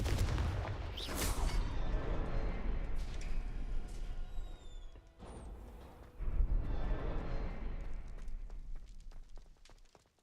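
Confringo spell blast in a video game: a dense, loud rumbling explosion with crackling debris that swells, dips briefly midway, then surges again before fading out.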